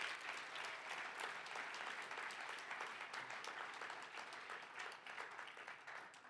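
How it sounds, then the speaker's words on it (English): Audience applause for student candidates in a chapel: dense, steady clapping from a sizeable crowd that holds at an even, fairly loud level for the whole stretch, with no voices standing out. "can we give a round of applause for all our candidates?"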